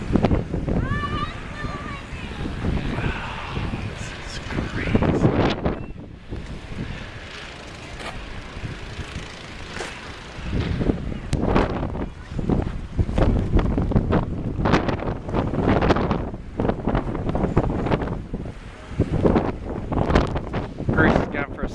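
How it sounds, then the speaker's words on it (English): Strong blizzard wind in 2011 buffets the microphone outdoors near a garage while snow is being shoveled out, a rough, gusting roar that rises and falls throughout, with people talking over it. "And the wind's just going."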